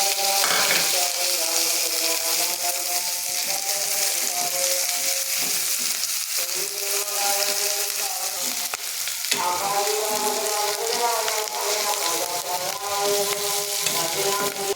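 Onions and cumin seeds frying in hot oil in a wok, the base for an egg curry, a loud and continuous close sizzle with stirring scrapes under steady background music.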